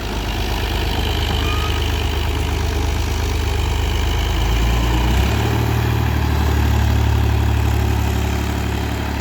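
A tractor engine idles nearby, a steady loud low rumble that shifts slightly in pitch midway and keeps running throughout with no talk over it.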